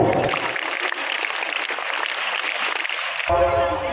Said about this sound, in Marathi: आता टाळ्यांचा जल्लोष तुमच्याकडून अपेक्षित आहे